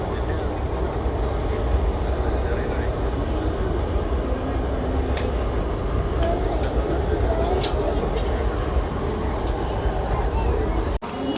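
A passenger train rolls into Mangalore railway station with a steady, loud, close rumble of wheels and carriages that continues throughout, with a brief clunk near the end.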